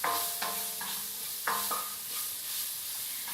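Garlic, curry leaves and finely cut onions frying in a pan, a soft sizzle punctuated by several sharp stirring scrapes, close and quiet, no voices.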